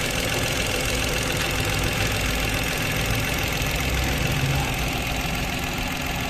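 Mitsubishi Mirage hatchback engine, with spark plugs not yet replaced and wiring chewed by rats, idles steadily throughout, a dense continuous rumble with a faint knocking texture and no talk.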